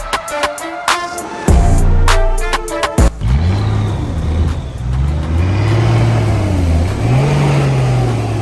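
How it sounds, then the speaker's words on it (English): A Toyota Hilux revs hard while towing another bogged Hilux out of beach sand, with a few sharp clicks and knocks first, then a loud close engine that rises and surges through repeated throttle pulls. "We hooked up the Hilux to laser and with a couple of tugs pulled Sammy's Hilux out of its sandy prison"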